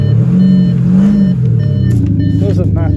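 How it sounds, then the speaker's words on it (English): An Audi SQ5 Bi Turbo sports SUV revs with a deep, throaty exhaust rumble from its sound booster, rising and falling, heard close up, with a voice speaking near the end. "Has got a sound booster, which is all part of the exhaust system"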